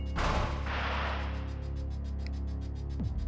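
Gunfire against robots in the video game Hybrid Heaven: one loud, sharp shot with a burst and decaying crash right at the start, then a low game hum underneath.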